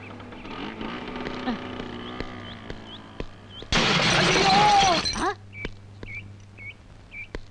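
A scooter crash in a 1992 Tamil film fight scene: a sudden loud burst of shattering glass and impact noise about a second and a half long, set in a music-heavy soundtrack with short whistling tones before and after.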